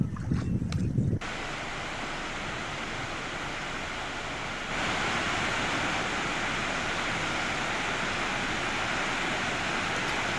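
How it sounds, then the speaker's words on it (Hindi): Heavy monsoon rain pushes water over a dam in Jodhpur, where it pours down in a steady, loud, broadband rush that swells slightly partway through, after a brief rumbling burst at the start. "और अब ये बांध छलकने लगा है"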